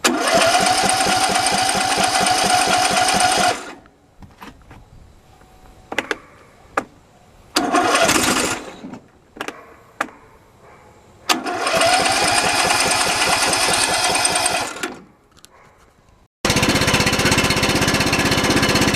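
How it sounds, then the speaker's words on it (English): A John Deere LA105 lawn tractor engine cranks on a low battery in several loud bursts, each a labored rhythmic chugging of the starter, separated by quiet gaps with clicks, with no voices. "just looks like my new battery that I just bought is pretty low, but it's turning."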